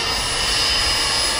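An electric jet aircraft hovering in place at full power, a loud, steady roaring whine with a strong high-pitched tone that holds unbroken throughout, close and dominant with no talk.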